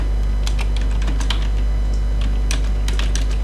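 Rapid, light keystrokes clatter on a computer keyboard as a script is typed into an AI avatar tool in CapCut on PC. The taps are close, irregular, and run over a steady low hum.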